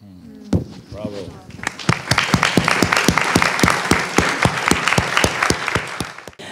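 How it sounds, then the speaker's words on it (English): Audience applause at a talk on surrealist poet Robert Desnos, starting after a brief spoken line and building into dense, sustained clapping from a sizable crowd in a room. "Please do join me in applauding"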